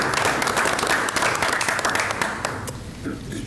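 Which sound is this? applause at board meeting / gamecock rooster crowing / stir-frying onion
applause at board meeting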